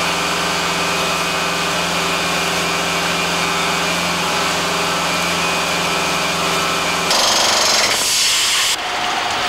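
A rock drilling rig in a tunnel drills holes for ground-freezing pipes: loud, continuous mechanical drilling with a steady droning engine hum, shifting to a harsher, noisier grind near the end.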